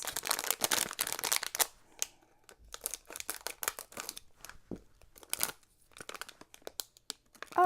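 A package being opened with scissors: close, irregular bursts of crinkling and rustling plastic wrap and cardboard, separated by short quiet gaps, no talking.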